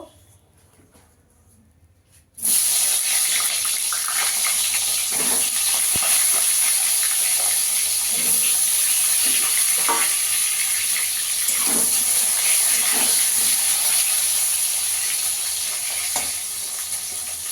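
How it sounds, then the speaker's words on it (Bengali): Eggplant goes into hot oil left from frying chapila fish, breaking a near-silence with a sudden loud sizzle that holds steady and close, with scattered stirring taps and spatters. "এবার এই তেলে বেগুনটা ভেজে নেব"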